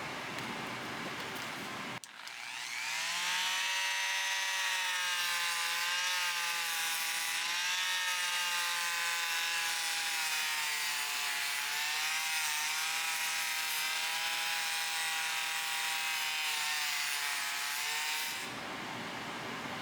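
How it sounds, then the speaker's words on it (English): A power tool fitted with a 400 grit disc sands a pair of vintage needle nose pliers, a steady high whine that runs continuously for about sixteen seconds and then cuts off. "now I'm going to use the 400 grit disc."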